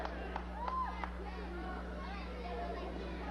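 Live wrestling crowd at a Sabu vs Hakushi match in Camden, NJ, a steady distant murmur of chatter and scattered claps and shouts over a low electrical hum.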